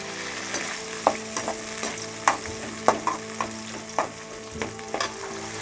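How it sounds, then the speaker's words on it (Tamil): Chopped small shallots fry in hot oil in a pan for nombu kanji rice porridge, a steady close sizzle punctuated by regular clinks and scrapes of a stirring spoon, with no voices. "கட் பண்ணி வைக்கிற வெங்காயத்தை நான் இதில் போடுறேன்"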